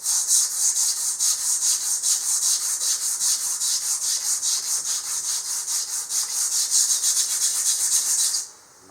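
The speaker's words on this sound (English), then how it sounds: "I'm fixing to sand these things down." Toyota FJ headlights being sanded by hand with a sanding pad, a close, steady back-and-forth rasping with an even rhythm of strokes that carries alone until it stops just before the end.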